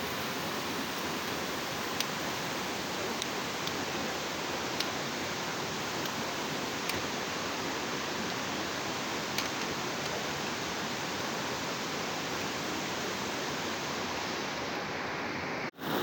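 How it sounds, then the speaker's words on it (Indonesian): A waterfall on the Pangrango mountain trail roars as dense, constant broadband rushing water, loud and unbroken for the whole stretch before cutting off abruptly at the end. "kita happy melihat air terjun yang indah"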